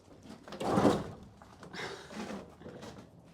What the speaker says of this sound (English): The sliding door.